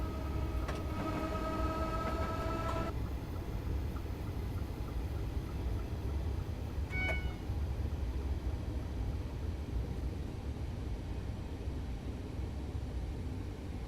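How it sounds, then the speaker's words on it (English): Inside the cab of a Class 314 electric train running on notch 1 toward Motherwell station, a steady loud rumble and rolling noise fills the clip, with a brief tonal whine near the start. "I'm going to keep the train on notch 1."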